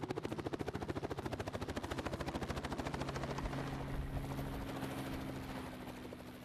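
A helicopter arrives with the rest of a crew, its rotor blades thudding in a rapid, even chop over a broad engine whine, loud and close, the beat softening slightly toward the end.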